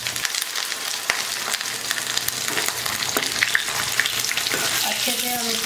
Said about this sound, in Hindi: अच्छे से हम इसको फ्राई करेंगे।